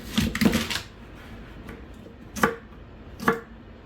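A knife chops fresh rhubarb stalks into half-inch chunks on a cutting board, first a quick cluster of sharp taps, then a few isolated, well-spaced strikes, close and crisp.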